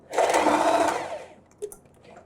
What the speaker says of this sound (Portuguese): baixar o pé calcador, baixar a agulha e vou iniciar a minha costura